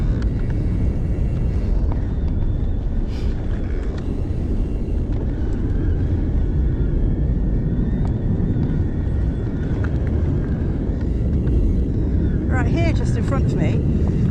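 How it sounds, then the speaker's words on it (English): A low, steady rumble of RAF aircraft passing overhead fills the background at High Lodge, Thetford Forest, broad and continuous, with a person talking over it outdoors. "if you can hear me above the rumble of the RAF planes"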